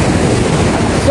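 Strong sea waves surging at Soebod bay, a steady loud wash of surf mixed with heavy wind buffeting the microphone, continuous with no break in the roar.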